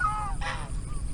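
A single goose gives one short, clear nasal honk at moderate distance, with a fainter call trailing just before and after, set against a steady outdoor rumble.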